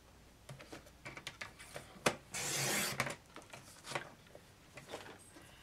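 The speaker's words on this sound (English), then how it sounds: "Okay, so I'm going to cut this at 4 3/4." Cardstock is cut with a paper trimmer for a handmade gift box, giving a quiet, short rasping slide of the blade. Soft taps and handling noises come before and after it.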